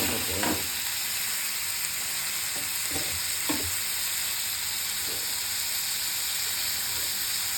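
Chopped tomato sizzles steadily in a hot pan of onions for a white kurma, a constant frying hiss with a few soft stirring scrapes and taps along the way.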